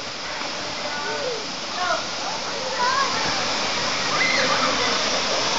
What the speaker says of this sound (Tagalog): Yan ang Sangbay Falls.